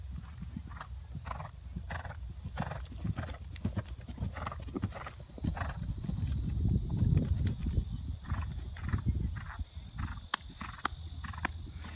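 Hoofbeats of a horse on a jumping course thud in a steady rhythmic beat, fairly close, with a low rumble of movement underneath and no talking.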